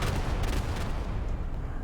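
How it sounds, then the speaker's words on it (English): Constant rumbling explosions and gunfire from a tank battle video game play loudly and steadily, forming a dense, booming wall of low-frequency sound with no pauses. "Them explosions."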